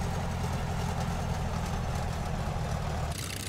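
A DH-82 Tiger Moth piston engine in Microsoft Flight Simulator drones with a steady, loud, low rumble throughout, shifting slightly in tone near the end.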